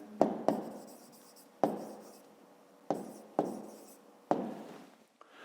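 A pen scratches out a math exercise answer on paper in short bursts, about six separate strokes with brief pauses between them, close and quiet with no talking.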